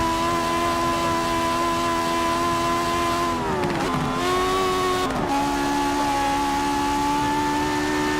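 A 1976 Grand Prix race car engine in a racing game drones loud and close with a steady high whine, dipping briefly twice as gears shift, then climbing again.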